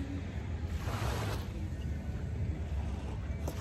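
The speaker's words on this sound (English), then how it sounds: "ocean." Ocean waves wash steadily onto a beach in a constant broadband roar, with some wind buffeting the microphone and no distinct individual breakers.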